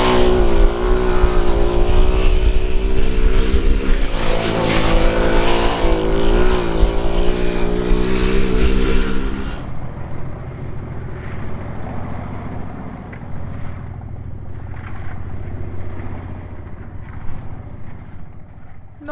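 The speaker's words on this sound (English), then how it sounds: "Here are some GoPro shots of me building up a little bit of speed and trying to get a feel for the" A speedway motorbike with no brakes, its engine roaring loud and close as it builds speed with the back end sliding. The raw, rising engine note is followed by a duller, more muffled engine drone in the second half.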